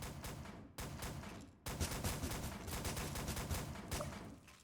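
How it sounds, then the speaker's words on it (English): Vanguard Auto Shotgun firing in Gmod Star Wars RP, a rapid, loud stream of blasts with brief pauses between bursts, close and continuous for several seconds with no talking. "That's the Vanguard Auto Shotgun."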